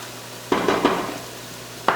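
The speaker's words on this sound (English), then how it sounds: "now that our onions have been sauteing for a few minutes, we can add in our garlic" Garlic added to onions sauteing in a pot, with a faint background sizzle punctuated by a few sharp spoon-against-pot knocks and stirring scrapes, up close.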